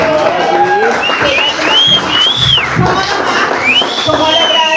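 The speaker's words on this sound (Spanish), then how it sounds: "rezamos con un fuerte aplauso a Tatiana" A studio audience gives loud, sustained applause for a guest on a Spanish-language talk show, with cheering and whistles over the dense clapping and voices shouting in the crowd.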